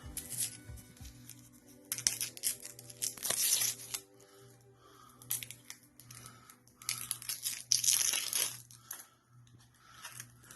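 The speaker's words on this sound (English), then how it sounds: "you want to go ahead and just peel this outer layer off" An onion's papery outer layer is being peeled off by hand, making dry crinkling and tearing rustles in short, irregular bursts, close and fairly quiet, with no talking.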